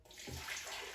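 Water poured from a jar into a blender container, a soft steady splashing pour that starts abruptly and continues evenly, close and fairly quiet.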